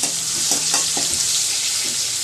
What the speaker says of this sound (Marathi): त्याच्यामध्ये तेल टाकून मी फोडणी देते हे बघा मी आता फोडणी टाकलेली आहे